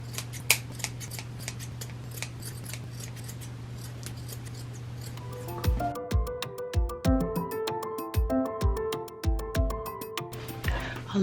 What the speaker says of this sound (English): I'm going to go in, cut those little edges to just sharpen these corners.